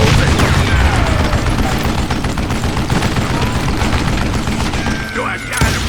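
A sustained, loud volley of gunshots in the western shooter Call of Juarez Gunslinger, with dense overlapping reports and crashes that continue with little pause for about six seconds.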